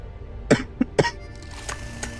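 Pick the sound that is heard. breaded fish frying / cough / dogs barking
cough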